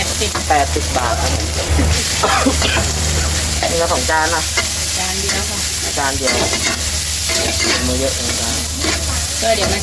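Duck sizzles loudly in a hot wok while being stirred and tossed, metal scraping now and then, with people talking in the background.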